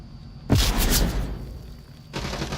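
A grenade detonates in a competitive VR shooter match: one loud, close blast with a sharp onset, then a fading rumble and lingering crackle, with no voices.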